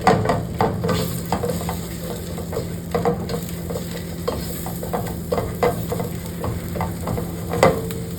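Ginger sizzles in a pan for chicken pastil while a utensil scrapes and taps the pan at uneven intervals, close and moderately loud, with no one talking.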